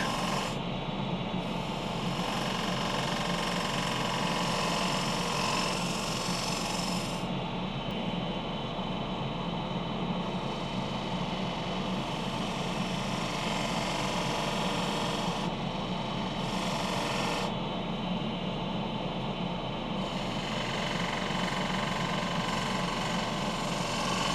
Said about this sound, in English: I need to refine the tenon before I turn this around. Half-inch spindle gouge.